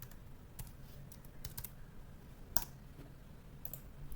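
Keys tapped on a computer keyboard while entering an answer into a chatbot, a sparse, fairly quiet run of separate clicks with one sharper strike midway, over a faint room hum.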